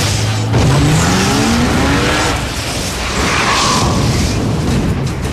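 Porsche 911 Carrera with a 3.6-litre engine roars past at speed, a loud sweeping engine note rising then falling with tyre and road noise, followed by a fainter second surge.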